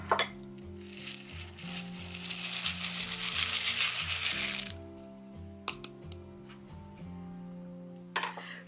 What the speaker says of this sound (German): ich verwende hier die Linsenfüllung. Am besten eignet sich einen Trichter zum Befüllen.